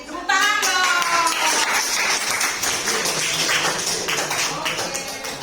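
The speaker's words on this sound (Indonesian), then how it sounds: "Tepuk tangan dong." Students in a classroom clap together, a steady broadband patter of many hands lasting several seconds, with voices talking over the applause.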